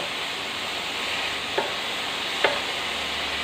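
Seasoning for shrimp with glass noodles is stir-fried in a pan, giving a steady, close sizzle with two brief spatula scrapes standing out against it.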